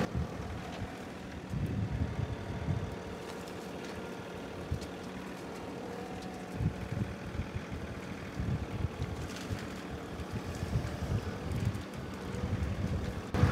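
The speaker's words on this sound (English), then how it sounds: "A lot of wind." Strong wind gusting across a rural property while a John Deere 3046R works with a tree saw and grapple. Steady, roaring wind noise buffets the microphone throughout, with a low machine rumble underneath and no talking.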